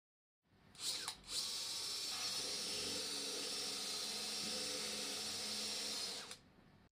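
A surgical power drill with a 4.2 mm bit whirs steadily through femur bone for several seconds after a brief start-up, then spins down; a close, high-pitched mechanical whine with no voices.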